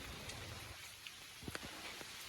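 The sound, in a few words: light drizzling rain in a village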